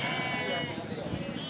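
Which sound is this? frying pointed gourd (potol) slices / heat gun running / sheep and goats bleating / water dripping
sheep and goats bleating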